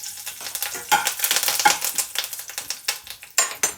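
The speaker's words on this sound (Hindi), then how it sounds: "तो घी में सबसे पहले मैं डालूँगी करी पत्ते की 10 से 15 पत्ते।" Curry leaves hit hot ghee in a pan and crackle sharply, a burst of irregular spitting pops and sputters that stays loud and close throughout.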